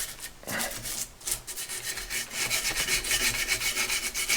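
Rhythmic rasping scrubbing strokes on a hard metal part of a 1955 DKW Hobby scooter, close and steady, repeating in quick back-and-forth bursts.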